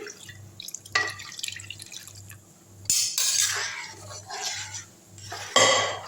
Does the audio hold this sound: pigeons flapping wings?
no